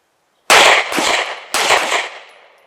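Three loud, sharp gunshots crack at close range during a range shooting drill. The first two come in quick succession and the third follows a moment later, each leaving a short, fading ring.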